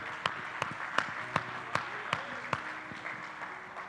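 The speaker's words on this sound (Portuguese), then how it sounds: "Quem pode aplaudir o nome de Jesus?" Congregation in a church service claps, a sparse rhythmic series of distinct claps about every 0.4 seconds over a soft crowd backdrop, fading toward the end.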